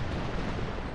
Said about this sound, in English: Oh, those artillery.